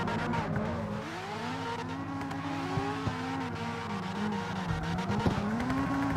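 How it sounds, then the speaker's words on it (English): A Mazda RX-7 engine in the CarX Street racing game, roaring loudly and steadily with rising and falling revs through gear changes, a continuous close drone with faint tyre noise and no talk. "RX-7 is so loud."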